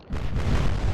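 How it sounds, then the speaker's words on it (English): Big naval guns fire in the Atlantic Fleet warship game, a single heavy, sustained booming blast that rolls on loud and close for nearly a second. "Big guns firing."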